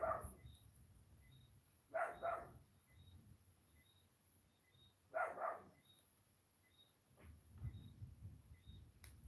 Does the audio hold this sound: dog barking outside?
yes